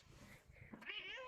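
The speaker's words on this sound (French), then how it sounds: "plus le chat qui vient ici pour voir comment je vais" A cat meows up close in a short, clear call rising over a dim indoor room tone, with no talk over it.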